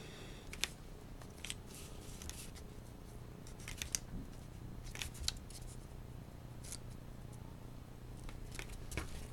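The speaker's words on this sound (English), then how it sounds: "we can trim them with the scissors" Scissors trim small cardboard pieces for a model broken road, producing faint, close, crisp snips at an irregular pace over a quiet background.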